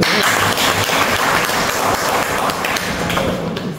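Audience applause at a Brazzaville sports federation meeting, dense steady clapping filling the whole stretch, loud and close with no speech over it.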